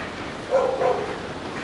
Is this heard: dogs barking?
yes